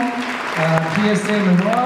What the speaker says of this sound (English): Big round of applause for our stormtroopers.